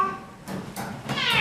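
A cat gives three distinct meows while being put into a carrier, close and rising in intensity, the last one loudest and most drawn out.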